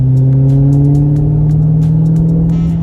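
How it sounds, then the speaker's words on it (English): A 2020 Dodge Charger Hellcat Widebody rumbles under light throttle, its loud, steady, deep exhaust drone rising slightly and holding close throughout without any talk. "That's a light acceleration. Light. Like, I'm not even going into it."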